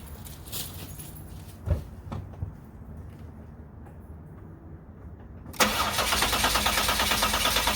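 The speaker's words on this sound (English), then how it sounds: "I'm going to go ahead and crank the engine over" A car engine cranks over on its starter during a relative compression test with an oscilloscope, a steady rhythmic chugging for several seconds at close range before it catches and the sound jumps to a louder, brighter roar.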